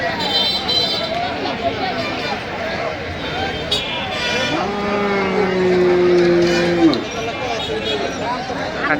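A cow or bull at a busy cattle market where Sindhi and Sahiwal bulls are for sale lets out one long, drawn-out moo partway through, over steady crowd babble and nearby talking.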